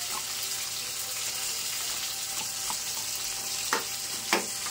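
Chili garlic frying in butter and oil, a dense close sizzle that runs continuously, with a few sharper pops and stirring clinks near the end.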